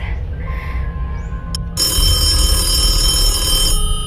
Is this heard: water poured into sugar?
no